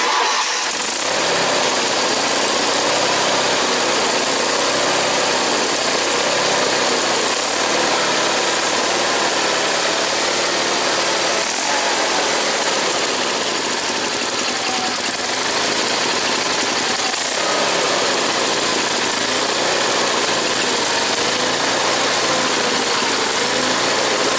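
A vehicle engine runs continuously as it warms up at idle, a loud, steady rumble with slight surges and no break, with no talking over it.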